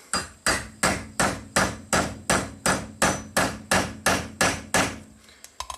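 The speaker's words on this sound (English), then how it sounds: "I'm just using a 4mm hex socket and just hammering it out" Steady, evenly spaced metal hammer blows on a 4mm hex socket driving out a roll pin on a 1998 Chevy K2500 truck, about a dozen sharp strikes in a row, close and loud, then a few lighter taps at the end.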